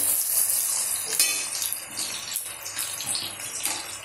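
Chopped onions and green chilies go into hot oil in a pan for a chicken curry, producing a loud, continuous close-up sizzle with splattering bursts and occasional stirring, without any voices.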